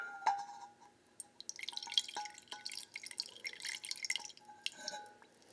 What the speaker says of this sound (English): I'm just going to slowly pour about 2 to 3 ounces of water